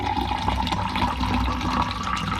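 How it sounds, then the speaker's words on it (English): Water poured into a drinking glass indoors, a continuous close splashing pour lasting a couple of seconds with no talk. "we got a trusty glass here, and we just want to pour a glass of water"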